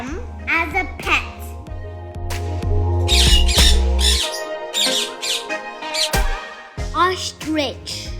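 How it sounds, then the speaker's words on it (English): A parrot with green feathers and a red beak gives a series of loud, harsh squawks in irregular bursts, close up, with a voice speaking in between. "Parrot. It has green feathers and a red beak."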